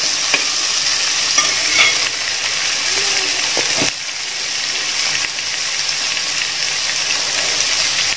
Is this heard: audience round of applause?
no